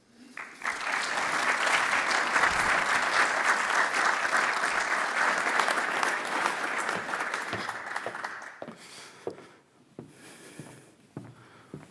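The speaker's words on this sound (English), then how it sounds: "Please give Maurits an applause and come up here." Audience applause welcoming a speaker to the stage at a lecture: dense, steady clapping from a room of people that swells quickly, holds for about eight seconds, then thins out into scattered claps.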